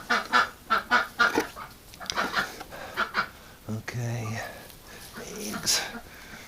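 Ducks honk and quack in a rhythmic burst of calls outdoors in winter, fairly close, with a person talking at times over them.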